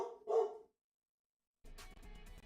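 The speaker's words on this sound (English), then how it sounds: "right on cue, we got Lima barking" A dog bursts into two close, loud barks in quick succession, then goes quiet before a muffled, noisy stretch of background sound follows.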